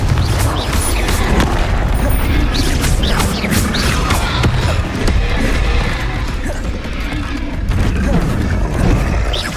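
Repeated Confringo explosion spells in Hogwarts Legacy blast and crash in quick succession, a loud, dense barrage of booms and clattering debris that continues throughout.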